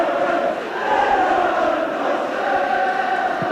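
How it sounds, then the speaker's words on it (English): Football crowd at the Oval stadium during a cup final, a dense, steady roar of many voices buzzing throughout, fairly loud and continuous. "Still a great buzz from the crowd here at the Oval."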